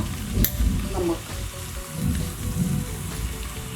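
Fish for Bengali macher jhol sizzles steadily as it fries in a pan, a continuous crackling hiss with soft bursts of bubbling and no talk.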